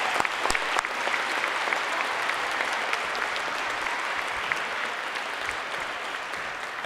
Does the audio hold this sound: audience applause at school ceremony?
yes